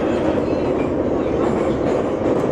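A metro train in Uzbekistan runs with a loud, steady low rumble and roar from inside the carriage, a continuous rolling drone with no pauses.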